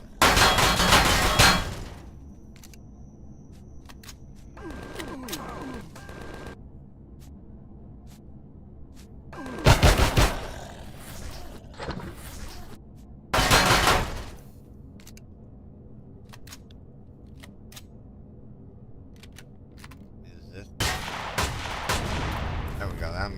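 Gunfire in the game Empyrion. Several loud, sharp bursts of shots and blasts stand out against a quiet background, spaced apart over the stretch, with faint clicks between them.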